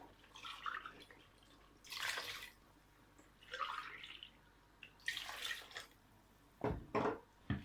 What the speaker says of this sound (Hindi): अब इसमें पानी डाल लेते हैं